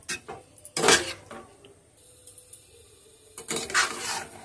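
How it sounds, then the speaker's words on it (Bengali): Vegetable stems being stirred in a cooking pan, with a few short scraping clatters of a utensil against metal separated by quiet gaps, close and moderately loud. "লতিটা তুলে আমি একটু নাড়বো"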